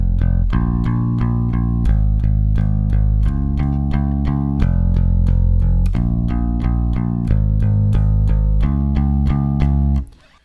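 Bass guitar alone plays the steady, even verse line of a song, a continuous flow of picked notes in repeating groups, loud and close, ending abruptly near the close.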